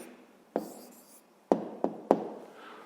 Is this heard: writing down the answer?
yes